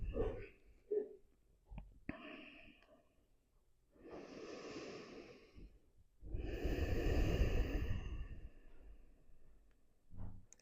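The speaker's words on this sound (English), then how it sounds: "just take a few breaths here" A person lies face down on a floor mat and breathes slowly. Several soft, close breaths come as long airy inhales and exhales, separated by quiet pauses, with a faint click near the end.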